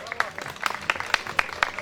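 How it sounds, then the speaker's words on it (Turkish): An audience at a Sivasspor jersey charity auction gives sparse, scattered clapping in distinct separate claps, with talk running over it. "Alkışlıyoruz lütfen."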